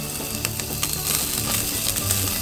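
Hanwoo beef, 2+ grade chuck flap, sizzles steadily on a charcoal grill with a dense, close crackling hiss and scattered pops that carry on without a break.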